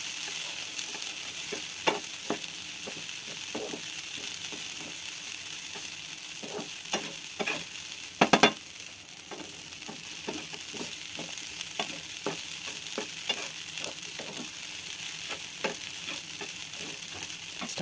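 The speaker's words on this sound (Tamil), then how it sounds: "எல்லாம் சேர்ந்து மிக்ஸ் ஆகிற மாதிரி நல்லா கிளறி விட்டுறணும்" Varagu semiya upma is stirred in a pan with a spoon, giving soft scraping strokes repeated over a steady, gentle sizzle.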